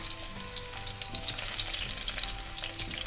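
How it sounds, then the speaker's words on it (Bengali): Cut brinjal pieces fry in hot oil in a pan, a dense continuous sizzle with crackling bubbles and a low cooking hum underneath, steady throughout and close. "এবার আমি বেগুনটা ভেজে তুলে নেব।"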